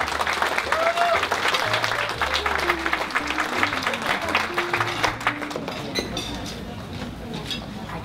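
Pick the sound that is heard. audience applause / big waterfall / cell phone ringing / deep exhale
audience applause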